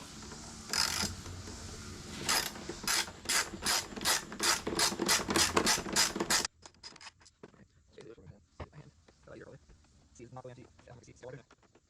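A hand ratchet clicks rapidly in a steady series of loud, rhythmic pawl strokes while removing the front seat bolts on a BMW S1000RR motorcycle, followed by quieter, scattered clicks and a short speaking voice.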